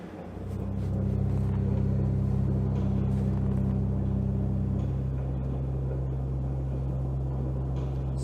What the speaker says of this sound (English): Turn the motor back on.